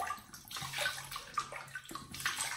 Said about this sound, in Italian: Allora, lo bagniamo sto benedetto viso?